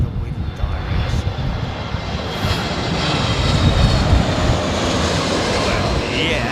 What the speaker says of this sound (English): Keep an eye on that Aer Lingus jet, Gilly.